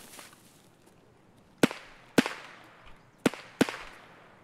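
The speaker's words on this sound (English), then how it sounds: "The grenade hit." Sharp explosive cracks from Escape From Tarkov, four distinct bursts in quick succession with short decaying tails, fairly close, over a quiet background.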